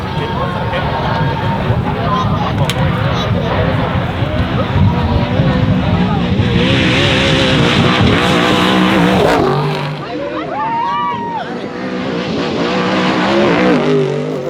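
An off-road race truck runs flat out in third gear at the San Felipe 250, skipping across desert whoops. The engine roars loud and close with rising and falling revs and rattling bumps, and voices talk over it.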